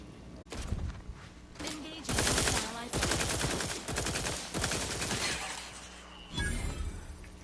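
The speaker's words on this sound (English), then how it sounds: "It is such a high rate of fire." Rapid automatic gunfire from a high rate-of-fire gun in The Outer Worlds 2, sustained loud bursts with sharp cracks over several seconds, a short pause near the start and a final burst after a brief lull.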